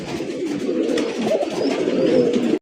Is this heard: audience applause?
no